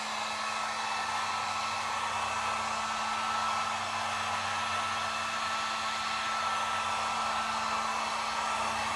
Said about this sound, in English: now I'm just going to take the heat gun to my clear coat